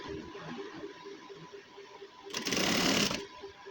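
A sewing machine stitches a fold on a gents' suit in one loud, steady burst of under a second, after a quieter stretch of rhythmic ticking.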